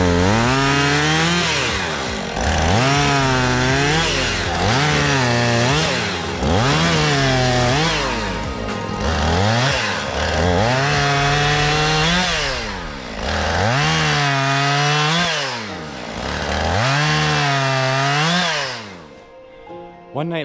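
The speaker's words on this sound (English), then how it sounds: "Cut these trees with that chainsaw." A chainsaw cuts through trees in snowy woods: the engine revs up and down in repeated surges as it bites into the wood, loud and close for about twenty seconds, with no talking.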